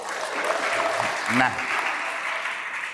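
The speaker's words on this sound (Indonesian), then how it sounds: "tepuk tangan dulu untuk frater" Audience applauding for a frater at a Catholic youth gathering, a steady wash of clapping filling the room from start to finish while a voice speaks briefly over it.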